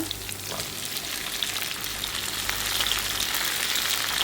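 Sliced onions sizzling in oil in a pan for a chutney, a steady, close crackling hiss with faint pops throughout and no speech.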